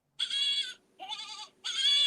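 Goats bleat in three drawn-out, quavering calls with short gaps between them, close and clear with no other sound.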